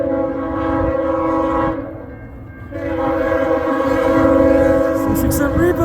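A southbound Canadian National freight train rolls past at Ladysmith, Wisconsin, its loud horn sounding in long blasts that break briefly and resume over the rumble and rattle of the passing cars.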